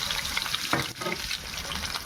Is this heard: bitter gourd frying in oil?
yes